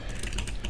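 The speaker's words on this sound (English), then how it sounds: "I'm actually typing my Twitch stream in the actual content" Rapid keystrokes on a computer keyboard clatter in a steady, fairly loud burst at close range, with no voices over them.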